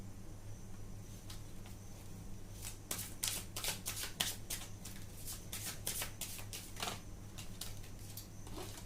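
Tarot cards shuffled by hand during a reading, a close run of rapid riffling flicks and slaps that thickens in the middle, over a low steady electrical hum.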